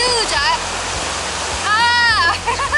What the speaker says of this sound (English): it feels so good with the mist of this waterfall